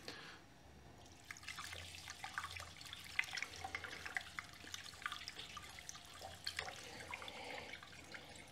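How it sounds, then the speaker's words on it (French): Gasoline poured in a thin stream into the fuel tank of an old motorcycle with its carburetor removed: a steady liquid trickle with small splashes and drips, close up and fairly quiet, with no talk. "je vais simplement rajouter de l'essence"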